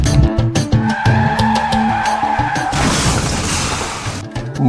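A car skids with tires squealing under hard braking, then crashes with a harsh noisy burst and scattering debris, loud and close, all within a few seconds.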